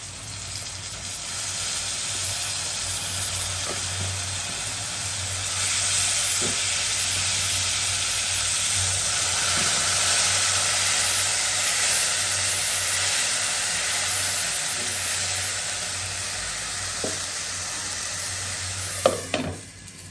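Garlic paste sizzles with already-fried onions in a pan, a continuous close hiss broken by occasional stirring scrapes and a brief clatter near the end, with no one speaking.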